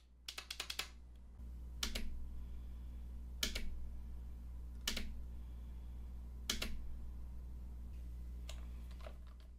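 Magnetic paddle shifters on an Italian-made 3DRAP VOTA steering wheel give a quick burst of sharp, close clicks, then single crisp snaps every second or so over a steady low hum, with no voices.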